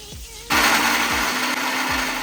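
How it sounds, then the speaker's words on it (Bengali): An electric mixer grinder dry-grinding poppy seeds and melon seeds in a jar, a loud steady whirring roar that kicks in after a short quieter lead-in and holds at full volume. "এই দুটো উপকরণ আমি একটু শুকনো গুঁড়ো করে নেব।"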